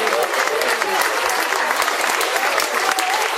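An audience applauds after a 2013 musical comedy performance: dense, steady clapping from a large crowd fills the whole stretch at full volume without letting up.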